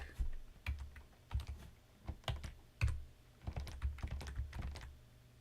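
Keys clack on a computer keyboard during a board game card design session, an uneven run of close, distinct taps in quick clusters with short pauses between them.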